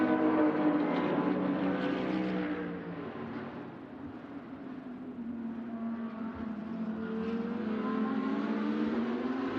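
Race cars pass on the track at the Sepang 12 Hours endurance race: a loud engine roar swells, fades and then builds again as the cars go by, with no talk.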